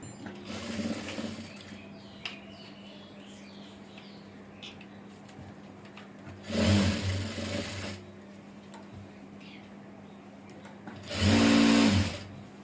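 A sewing machine stitching fabric for an umbrella frock runs in three bursts of loud, whirring motor noise separated by quieter gaps with faint handling sounds.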